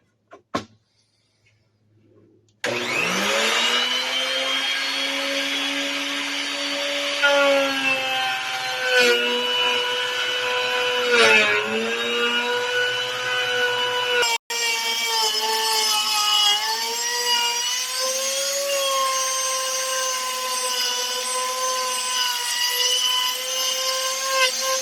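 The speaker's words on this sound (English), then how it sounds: "So we have a straight cut groove all the way down" A Chicago Electric router table cuts a straight groove along a wooden board, a loud steady high-pitched whine with shifting tones that holds for over twenty seconds after spinning up, with a brief dropout midway.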